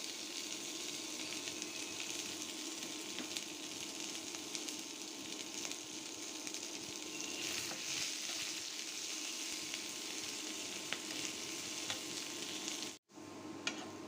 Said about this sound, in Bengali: সব কিছু একটু নেড়ে চেড়ে গোল্ডেন ব্রাউন করে ভেজে নিলাম